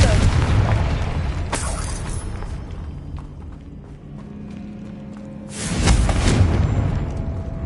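Confringo blasting spells explode in a Harry Potter wizarding video game, with two loud booming blasts and a rumbling tail between them, close and forceful.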